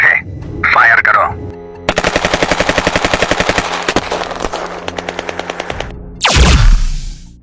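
Rapid bursts of blaster fire crackle loudly through an animated Star Wars space battle aboard a ship, a long rattling volley of regular zaps followed by a swooping whoosh, with a brief voice near the start.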